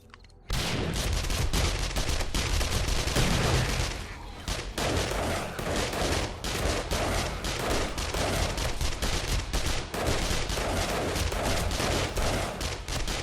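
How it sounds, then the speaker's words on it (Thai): Rapid, continuous bursts of gunfire in the zombie game 7 Days To Die crackle almost nonstop, dense automatic shots with short pauses, loud and close throughout. "ระเบิดดอกโคตรน้อยเลยตอนนี้"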